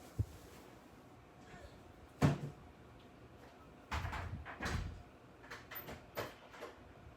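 A front door is handled at home to collect a delivered package: a sharp thump, then a cluster of latch clicks, creaks and bumps as it opens and shuts, all fairly close and without speech.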